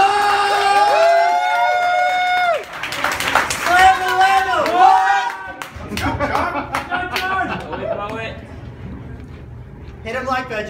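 A crowd at the National Poetry Slam applauds, cheers and whoops for a spoken-word poet being introduced. Sustained clapping follows a sung or spoken intro, with bursts of voices and chatter mixed through the roar.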